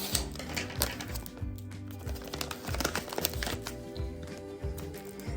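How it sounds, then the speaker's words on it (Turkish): A crinkly plastic Blackpink-themed surprise package is torn and unwrapped up close, with repeated rustling crackles over a steady tonal background. "Şimdi ise Rara'yı açıyoruz"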